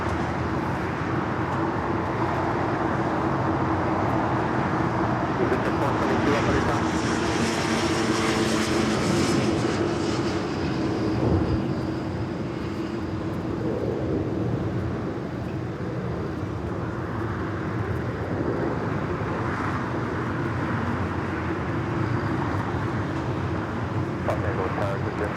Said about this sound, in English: Flight 204 there in the background, the A350.